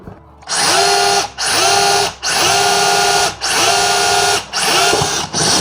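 A DeWalt DCH072 cordless rotary hammer drill runs in five loud, close bursts of about a second each, its motor whining up and cutting off with brief gaps between runs, and no one speaking.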